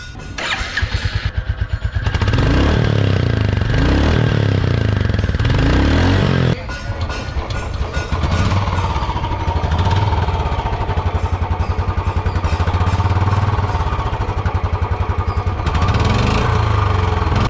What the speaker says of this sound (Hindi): बट इसी के साथ अगर हम सुने इस बाइक की आवाज़